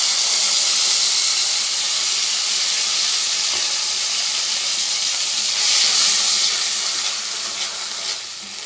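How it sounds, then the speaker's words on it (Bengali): Poppy seed and mustard paste with green chili and turmeric frying in a pan, a steady, loud, close sizzle and hiss that continues without pause and eases slightly near the end. "এটাকে আমি ভালো করে কষিয়ে নেব যতক্ষণ না পোস্তর কাঁচা গন্ধটা চলে যাচ্ছে।"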